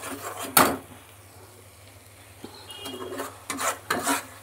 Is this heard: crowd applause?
no